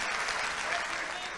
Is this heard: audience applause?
yes